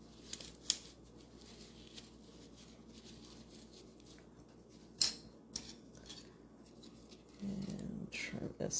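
Scissors trim harvested garlic bulbs from a home garden, a few sharp snips and crisp papery cuts spread over a quiet background, followed by rustling handling at the end.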